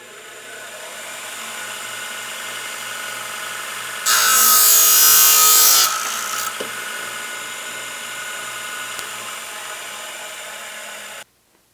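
A power saw is switched on to trim a golf club shaft, a steady motor hum jumping into a loud, bright cutting whine for about two seconds before settling back to the running hum and cutting off.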